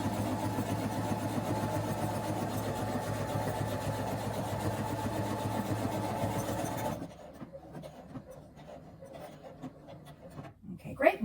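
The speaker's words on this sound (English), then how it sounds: "Once the sewing machine stops sewing" A sewing machine runs steadily while stitching a button onto a button-down shirt, a dense continuous mechanical hum that stops abruptly partway through, leaving a quiet room with small handling noises.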